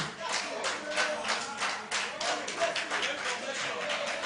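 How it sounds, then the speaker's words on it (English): An audience at a youth conference claps in a loose, rhythmic burst of many hands, moderately close and steady across the whole stretch, with voices faintly mixed in. "I thought the men would be clapping."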